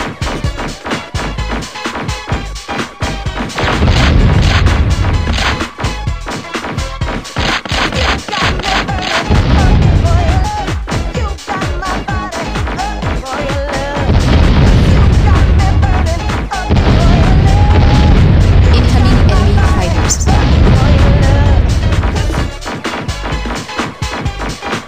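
A city is destroyed in the video game Buzz Off, with a dense run of loud crashing explosions and sharp impacts that swell in bursts over a driving game soundtrack.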